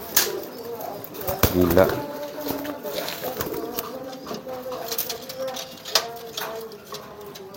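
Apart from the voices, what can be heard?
pigeon cooing while courting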